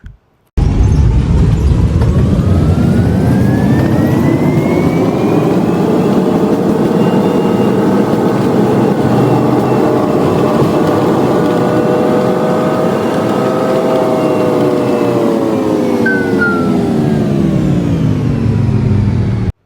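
A Singapore Airlines Boeing 777-300 takes off, its jet engines heard from inside the cabin as a loud, sustained roar that rises and then settles in pitch over about twenty seconds, with no talk.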